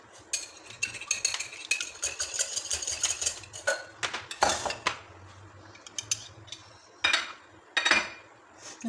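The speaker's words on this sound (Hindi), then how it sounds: "एग मैंने सारे डाल लिए और इनको अब मैं जो है बीट कर लूँगी।" Eggs being beaten in a bowl for a semolina basbousa cake batter, with rapid clinking whisk strokes against the bowl in uneven bursts and short pauses between them, close and fairly quiet.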